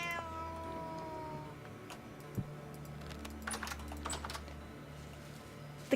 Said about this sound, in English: The cat mod is just a little too good sometimes.